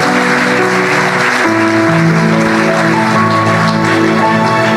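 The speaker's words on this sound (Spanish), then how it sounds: "dale un fuerte aplauso al Señor" A church congregation claps loudly and steadily for the Lord at an anniversary service, dense applause running throughout over sustained music.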